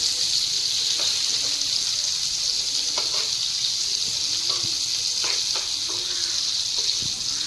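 Prawns and stuffed mackerel fry in a pan, giving a steady bright sizzle throughout with soft clicks and small pops scattered over it, close and even in level.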